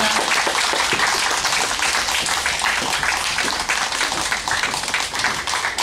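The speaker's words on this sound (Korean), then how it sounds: "큰 박수로 환영해 주시면 감사하겠습니다." A crowd applauds to welcome a Buddhist monk as a guest at a volunteer awards ceremony with a year-end fashion show, a dense, loud, continuous roar of clapping that holds steady throughout, with no talk.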